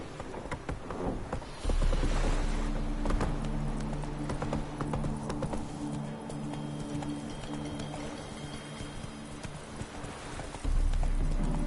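Steady, close clip-clop of a horse's hooves trotting in The Witcher 3 on PS4, a continuous rhythmic beat that runs the whole time over a low ambient game background.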